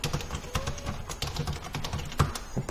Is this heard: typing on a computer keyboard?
yes